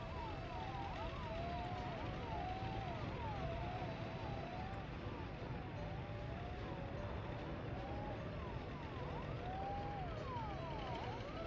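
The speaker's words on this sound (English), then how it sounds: "Hearing a lot of sirens." Ambulance sirens wail continuously in the city-building game Workers and Resources: Soviet Republic, overlapping rising and falling tones sustained at steady volume over game ambience.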